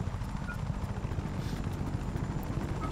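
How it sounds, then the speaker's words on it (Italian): A helicopter in the video game Just Cause 3 gives off a steady, low rhythmic rotor thump, moderately loud and continuous, with no talking over it. "qui ci sono altri elicotteri"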